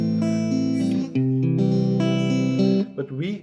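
Guitar plays the original arrangement of House of the Rising Sun, ringing chords and picked notes for a few seconds, then a brief fading tail as the playing stops.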